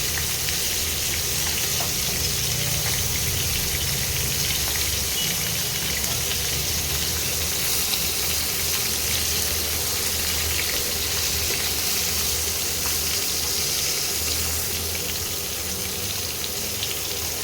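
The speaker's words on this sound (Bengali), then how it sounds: "এরকম অল্প অল্প করে মাছগুলোকে ভেজে তুলে নিতে হবে।" Prawns frying in hot oil in small batches for a homestyle tomato prawn dish, a loud, steady, dense sizzle and crackle that runs continuously and close up with no break.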